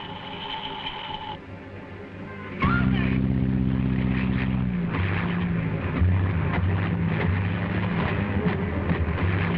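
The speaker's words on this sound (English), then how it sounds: "Is it true that Arkadin's plane's flying around up there empty?" Propeller plane flying overhead, a steady droning engine hum that rises abruptly about a third of the way in and continues with shifting tone, while a voice speaks over it.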